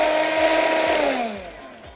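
Electric hand mixer whirring through icing sugar in a bowl, a loud steady motor hum with rhythmic beater clatter that winds down and fades over two seconds.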